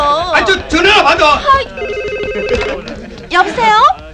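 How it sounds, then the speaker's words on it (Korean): A telephone rings in an office with a steady electronic trill in the middle of the stretch, while people talk loudly before and after it. "아니 저 전화 받아."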